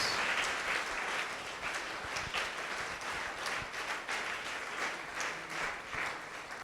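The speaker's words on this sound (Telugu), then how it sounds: "గట్టి చప్పట్లు కొడదాం" A church congregation in India claps loudly and steadily during worship, a dense, continuous wall of applause that holds for the whole stretch without letting up.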